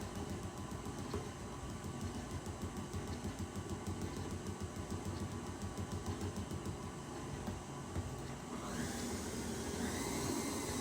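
A stand mixer whisks carrot cake cupcake frosting as powdered sugar goes in, giving a steady, loud motor whir that runs without a break and rises in speed toward the end.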